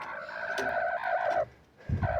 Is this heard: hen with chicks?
yes